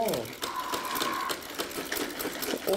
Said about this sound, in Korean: 정말 이 재봉틀을 얼마나 많이 쓰시고 관리가 잘 됐는지 정말 부드러워